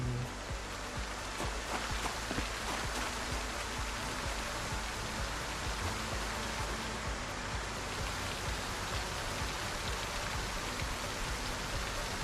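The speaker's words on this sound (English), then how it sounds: "It's raining." Steady, dense rainfall in a video game hisses evenly and loudly throughout, an unbroken wash of patter with no voices.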